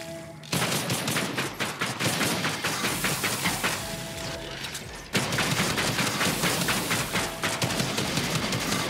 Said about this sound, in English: let's take our machine gun. Look how fast that goes.